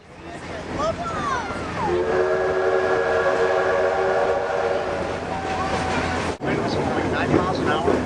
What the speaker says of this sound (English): This is a steam engine hooking up with passenger cars on an excursion railroad.